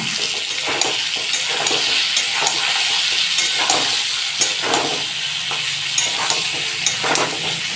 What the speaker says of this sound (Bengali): এটা একটু ভালো করে নাড়াচাড়া করে ভাজা ভাজা মতো করে নেব